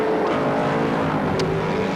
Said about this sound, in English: The cars having come through quite a bit slower.